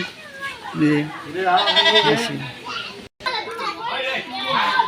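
Goats bleat in a village in several wavering calls near the start, mixed with children's voices and nearby adults talking over steady outdoor background noise.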